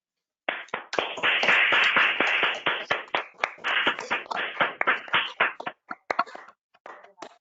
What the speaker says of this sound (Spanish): le lanzamos un aplauso y como muestra de apoyo